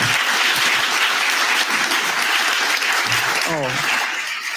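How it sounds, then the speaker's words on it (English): An audience applauding a guest speaker at a talk on a civil rights trial, a dense burst of many hands clapping that carries on steadily and tapers slightly near the end, with a voice briefly heard over it. "another round of applause for our esteemed speaker today"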